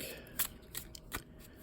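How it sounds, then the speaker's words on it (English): Tarot cards being shuffled by hand, a few crisp riffling bursts spaced apart, near and fairly quiet, with no talking. "I'm just gonna shuffle so I don't have to shuffle throughout the reading."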